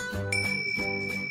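A short bright bell ding sounds as a notification alert, a clear ringing tone struck once and then again with a lighter chime, brief and close, without any voices.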